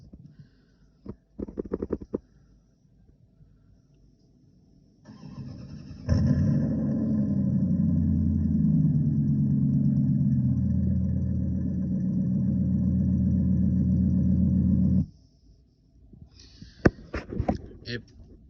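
A Dodge truck's V8 engine cranks and fires up, then settles into a steady, deep rumbling idle for several seconds before shutting off, with brief clunks around it.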